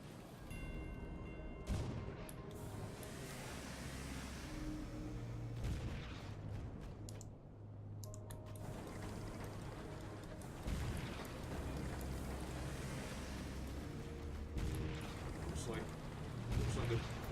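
Cannon fire booms in the video game Sunless Skies, dull, repeated blasts scattered over a rumbling game soundscape while a person talks over it.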